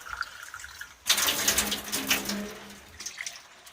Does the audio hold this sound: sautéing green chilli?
no